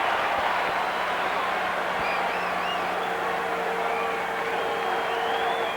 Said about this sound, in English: each strike now will elicit a louder noise from the crowd